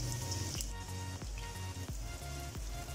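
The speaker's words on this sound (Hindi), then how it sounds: "अभी हम इसी ऑयल में प्याज डाल देंगे।" Finely chopped onions hit hot oil in a pan for a bitter gourd and meat curry, crackling in a steady, dense sizzle throughout, with a few louder spits and pops rising from the constant frying hiss.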